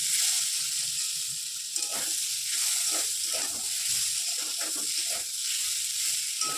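Masala spice paste sizzles and fries in a pan, a continuous bright crackling hiss with scattered pops and occasional stirring scrapes, close and alone without talk.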